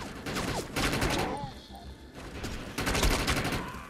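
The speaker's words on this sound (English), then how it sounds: "I'm liking this assault rifle." Assault rifle fire in the online shooter game Defiance comes in several rapid automatic bursts separated by brief gaps, loud and close, with faint background game sounds.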